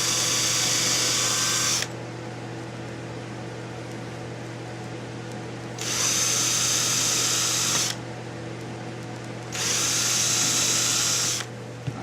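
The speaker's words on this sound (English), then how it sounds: "I'm going to get to drilling these out" A power drill bores holes through a vinyl knife sheath in three separate bursts, a loud high whine with steady low hum between runs.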